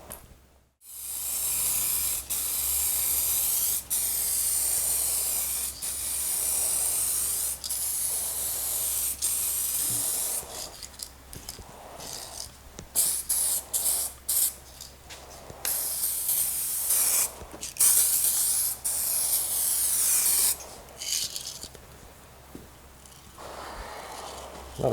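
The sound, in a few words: spray nozzle spraying, spitting and sputtering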